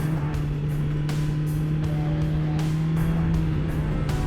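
A 2020 BMW S1000XR motorcycle engine hums at a steady drone while riding in city traffic, with rhythmic pulses of revving and wind noise over a strong low engine tone.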